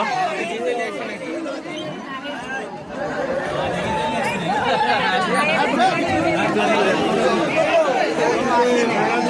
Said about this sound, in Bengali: তাহেরপুর স্টেশনের ভিড় দেখতে পাচ্ছেন ট্রেনে ভিড় হয়ে গেল